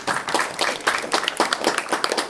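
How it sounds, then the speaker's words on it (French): Audience applause for the narrator at a school gala evening in France: close, dense clapping from many hands, steady and lively throughout with no talk over it. "Je crois que nous pouvons applaudir notre récitant Steph."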